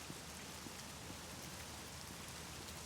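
Rain falling in the video game The Medium, a steady, dense hiss of drops striking surfaces at low volume, unbroken and without voices.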